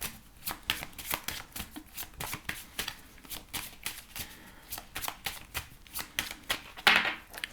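Fairy Lenormand oracle cards being shuffled by hand, a quiet, close run of rapid riffling flicks in steady rhythmic bursts, with no talking over it.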